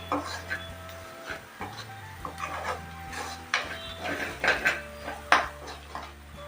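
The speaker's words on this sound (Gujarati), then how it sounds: "હવે બધા મસાલાને એકવાર મિક્સ કરી લેશું" Spices being stirred in a pan on low heat while cooking dal fry, with a spoon clinking and scraping against metal in a series of irregular taps and scrapes, close by, with no talk.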